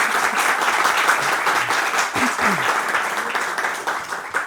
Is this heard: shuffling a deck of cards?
no